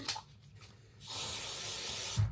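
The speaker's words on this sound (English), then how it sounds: "A little bit of deodorant." An aerosol deodorant sprays in one steady, close hiss lasting more than a second, after a few quiet handling sounds.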